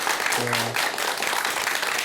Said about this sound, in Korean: 다시 한번 박수 부탁드리겠습니다.